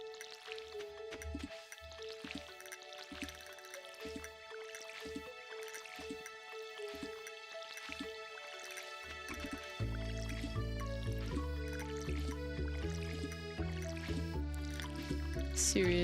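Crops being watered with a watering can in the farming game Stardew Valley, repeated soft splashing drips over looping game music that grows fuller partway through.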